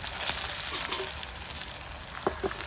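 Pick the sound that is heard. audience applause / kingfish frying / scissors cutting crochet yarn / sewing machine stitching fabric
kingfish frying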